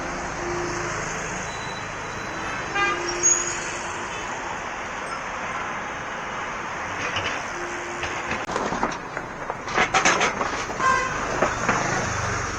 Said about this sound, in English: Here is a traffic jam now. Too many cars.